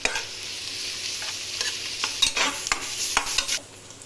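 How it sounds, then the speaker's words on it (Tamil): Onion, green chili and ginger garlic paste sizzle softly in a pan while being stirred, with scraping spatula strokes and light crackling frying close by, no voices. "இப்போ பச்சை மிளகாய் போட்டு நல்லா அரைச்சி வச்சு இஞ்சி பூண்டை நல்லா போட்டு வதக்கிங்க."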